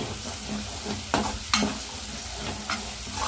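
A spoon stirs fenugreek leaves with chicken liver in a hot pan, a soft steady sizzle broken by a few sharp scrapes and clinks of the utensil against the pan, close and clear with no talking.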